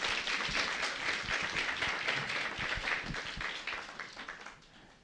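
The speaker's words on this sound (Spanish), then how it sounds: "Una vez más vamos a dar por favor fuertes aplausos." A church congregation at a Sunday service claps in steady applause, a dense wash of hands that holds level and then tapers off toward the end.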